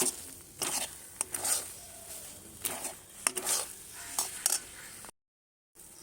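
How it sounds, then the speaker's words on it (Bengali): A metal spoon scrapes and knocks against a pan as ground lentil paste with turmeric is stirred on the stove until its water cooks off, producing irregular clatters and soft sizzling before a brief silence. "তারপর এভাবে নাড়াচাড়া করে এটাকে জলটাকে শুকিয়ে আসলে নামিয়ে দেব।"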